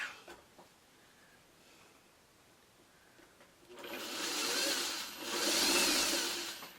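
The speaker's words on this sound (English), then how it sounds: "And then sewing down a middle seam." A sewing machine stitches a middle seam on a quilt, starting after a few quiet seconds with two loud whirring bursts, close and alone.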